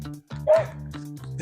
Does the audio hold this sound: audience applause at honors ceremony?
no